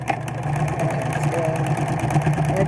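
A sewing machine stitches the seam of a reversible fabric mask, a steady, fast mechanical chatter that runs without pause while a person talks over it.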